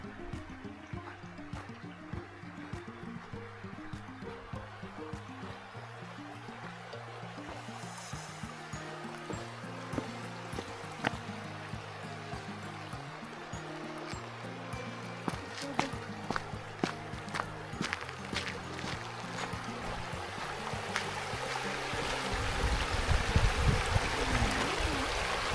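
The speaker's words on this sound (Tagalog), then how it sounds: "andito yung ilog, yung river." Water rushes and babbles steadily from a river at Cotter Campground in Canberra, Australia, in autumn, with footsteps and occasional clatter nearby and someone speaking intermittently over the flow.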